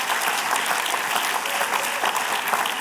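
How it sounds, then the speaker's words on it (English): Steady applause from a graduation audience honoring recent alumni, a dense unbroken wash of many hands clapping at close range throughout, with no speech over it. "if you could just give yourselves a round of applause for everything you've been through"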